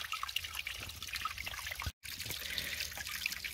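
Clean running water in a stream trickles and burbles steadily close by, a continuous bright babbling with a brief cut in the middle.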